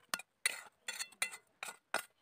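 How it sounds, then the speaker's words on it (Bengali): Spoonfuls of dry fish filling for rohu fish fingers tipped onto a plate, heard as six quick, light clinks and scrapes of a spoon against the dish in an otherwise quiet room. "এবারে আমি পুরটা থালার মধ্যে ঢেলে নেব।"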